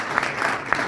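Short burst of audience clapping at a live supplement product demonstration, fairly close and steady, with a couple of sharper claps standing out.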